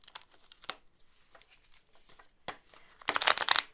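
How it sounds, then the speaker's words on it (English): A deck of Pokemon cards is shuffled by hand: soft, scattered papery flicks and rustles, then a denser, louder burst of riffling near the end, close and without talk. "Okay, so let's get some Pokemon cards. I like to shuffle them."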